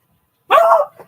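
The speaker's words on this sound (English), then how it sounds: "Yeah, pretty dogs." A single close, loud dog bark, sharp and short, followed by a faint trailing yip in an otherwise quiet room.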